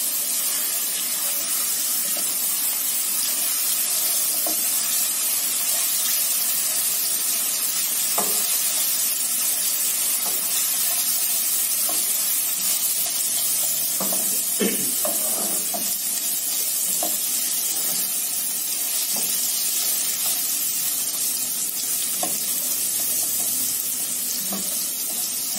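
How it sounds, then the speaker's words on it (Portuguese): Garlic frying in a pan, a steady hiss of sizzling oil filling the whole stretch with scattered small pops and crackles, close and continuous, no one talking. "Olha o barulhinho do alho fritando."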